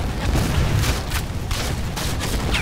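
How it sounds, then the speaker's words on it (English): Gatling gun firing during the Siege of Vicksburg in Civil War: Secret Missions, steady loud battle noise with repeated sharp bursts over a constant rumbling bed. "Here's our old pal, the Gatling gun."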